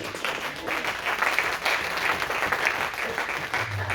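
A church congregation claps and cheers for Jesus with sustained, dense applause that rises and falls over a few seconds, fairly distant in the room.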